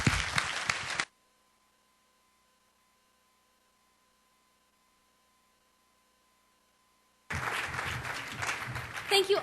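An audience at an awards gala claps in two bursts of dense applause, loud and close, separated by a long silence.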